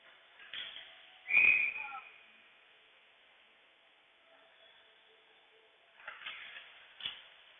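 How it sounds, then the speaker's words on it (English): A referee's whistle at a varsity ice hockey game blows one sharp shrill blast, followed by rink noise and a few fainter scrapes and thuds, with a commentator speaking over parts of it. "we'll get another whistle with 5:12 to play"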